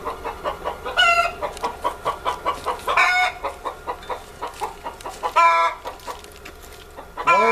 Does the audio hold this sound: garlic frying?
no